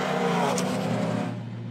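A 4-cylinder drift car runs on a drifting course, a brief, fairly distant engine drone with a buzzing note that fades slightly as it goes.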